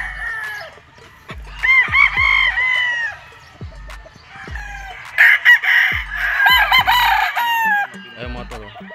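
Young six-month-old gamefowl cockerels crow repeatedly at a large game farm, several overlapping cock-a-doodle-doos near and far with occasional clucks, no talking.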